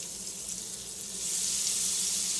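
Green beans and garlic sizzle in butter in a hot pan on medium-high heat, a close, steady crackling hiss that grows a little louder partway through.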